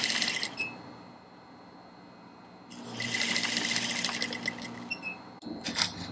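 An industrial sewing machine top stitches a corset in two loud bursts of steady whirring, with a quieter pause between them and another short burst at the end.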